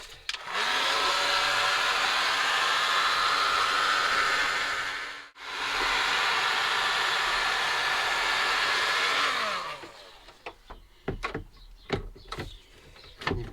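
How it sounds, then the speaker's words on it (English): Heat gun blowing steadily on hardened sealer around an Audi Coupe 2.2 rear light, a loud close whooshing hum that cuts out briefly, restarts, then stops, leaving clicks and light handling noises. "the only way to get it out is to heat it with a heat gun."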